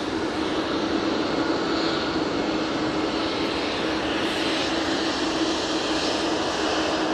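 An airplane touching down at Manchester Airport gives a steady, broad roar of engine and rushing air, moderately distant and continuous throughout with no talk.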